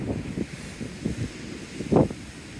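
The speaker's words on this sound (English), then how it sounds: "So that's the wind." Gusts of wind buffet the microphone on a blowy seafront. They come as uneven low thumps and rumbles, close and moderately loud, with no voices.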